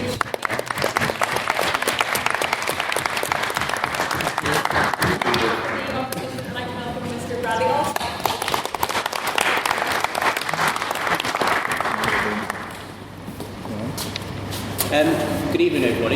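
Debate-society audience applauding a maiden speech, sustained dense clapping across the room with a brief lull midway, while a speaker's voice carries over and between the claps.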